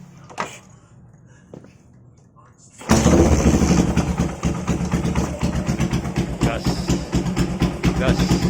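A custom motorcycle engine starting up after a quiet stretch with faint clicks, then running loud and close, its throttle blipped in a rough, pulsing rev while people talk nearby.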